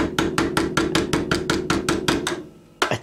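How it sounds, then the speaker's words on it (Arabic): A hammer striking metal while a homemade yogurt maker is being built: a dozen or so sharp, evenly spaced blows close by, followed by a short pause and one last strike. "اجيب اي شاكوش وبالبنسة عندي او شاكوش تاني او اي حاجة متوفرة عندي وادق عليها"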